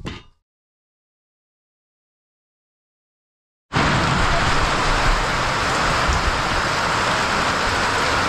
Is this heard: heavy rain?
yes